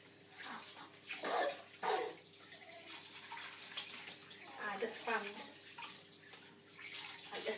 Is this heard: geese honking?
no